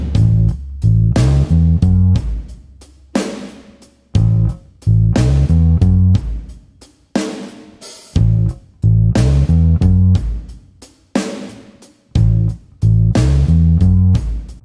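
Bass guitar working through a 12-bar pattern with slides, loud and close, with repeated chunky note groups and brief gaps between phrases, no talking.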